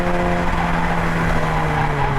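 Mazda MX5 race car at speed during a race at Snetterton, heard from onboard as a loud, steady engine drone with a constant tonal hum and road roar throughout.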